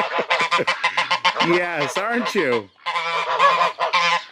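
Czech and Chinese geese honk loudly and repeatedly inside a winter barn, in close, overlapping bursts, with a person talking over them.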